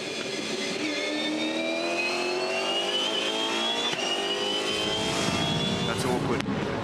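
A 2015 V8 Supercar racing at Bathurst, heard from inside the car, its engine revving steadily higher for several seconds before a brief dip and re-climb, loud and continuous, with a commentator talking over it.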